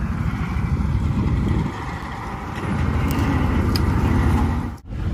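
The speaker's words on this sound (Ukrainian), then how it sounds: "їду до поля, веду комбайн" Slavutych combine harvester driven along the road toward a sunflower field: a continuous, close, heavy engine rumble with a brief dip in level, and no speech.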